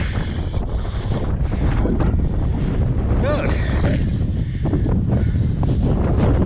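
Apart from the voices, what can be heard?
wind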